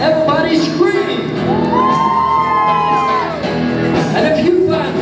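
A crowd at a live music show screams and whoops loudly and continuously, many voices blending into a sustained roar of cheering close by.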